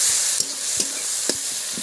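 Onion dropped into hot oil tempered with bay leaf and cumin, a loud bright sizzle with a few sharp clinks of a spoon against the pan.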